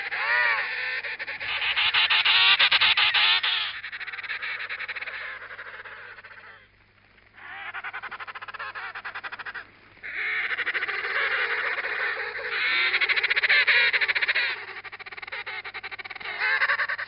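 A dense chorus of loud, trumpeting calls from a crowded emperor penguin colony, overlapping in long waves with brief lulls between bursts.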